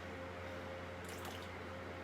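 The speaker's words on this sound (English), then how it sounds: "we add a bit hot water here" Hot water is poured into black glutinous rice cake batter, giving a soft liquid trickle and splash for about half a second over a constant background hum.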